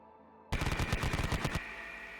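A heavy machine gun fires one sustained burst of about a dozen rapid, evenly spaced shots, loud and close, in a Konflikt '47 tabletop wargame between Japanese and US forces, with no talk over it.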